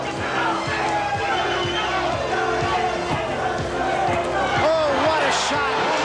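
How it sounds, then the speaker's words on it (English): A boxing arena crowd roars and cheers throughout, under a commentator's steady talk, with thuds and shouts rising from the audience. "The crowd, again, showing its both appreciation and support for Jose Revolta."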